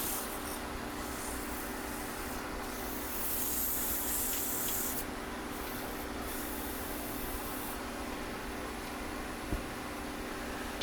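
Sanding wooden peg dolls by hand with 220 grit sandpaper gives a steady, close rubbing hiss that runs for the whole clip. It swells briefly in the middle, and no one speaks.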